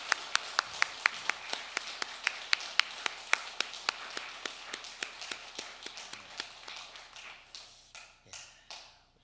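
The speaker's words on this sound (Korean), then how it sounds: "우리도 힘찬 박수로 영광 돌리도록 하겠습니다" A church congregation claps in praise during a Korean worship service, a brisk rhythmic beat that holds steady and then thins out and fades toward the end, with a voice briefly under it.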